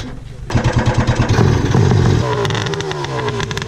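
A flooded Yamaha engine on an adventure jetboat sputters and revs unevenly, a loud, close, rough throbbing that pulses and chugs before settling into a ragged running drone, with a voice talking over it.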